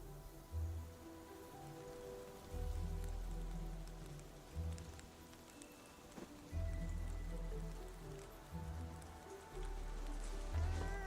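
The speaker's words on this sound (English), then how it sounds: "Splattering rain." Splattering rain in a video game: a soft, continuous patter of drops on a surface that swells and fades in gentle waves, quiet and unbroken by voices.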